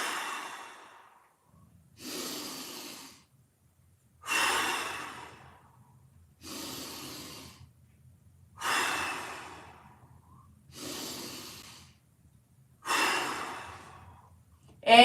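Slow, deep breaths during a mobility workout, about seven long exhales in a steady rhythm roughly two seconds apart, close and soft, each one a breathy whoosh that fades into near silence.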